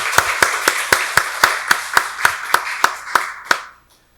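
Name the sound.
congregation clapping in church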